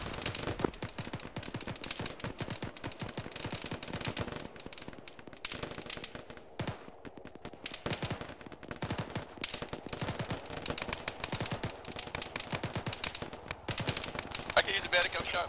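Dense gunfire in the military game Arma, rapid automatic bursts and single shots crackling continuously near and far for the whole stretch, with voices talking over the shooting.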